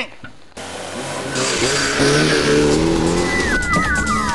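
An old car's engine revs up and accelerates, loud and close after a short quiet start, the roar building steadily with a rising whine and a brief tire squeal near the end.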